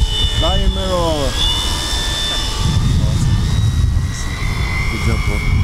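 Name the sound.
Pilatus PC6 RC model airplane engine flying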